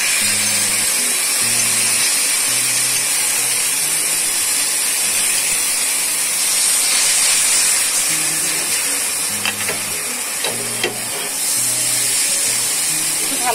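Eggplant and tomato hit browned onions in a hot pan, setting off a loud, dense, hissing sizzle that holds steady throughout, with a faint rhythmic tone underneath and a few sharp clicks near the end.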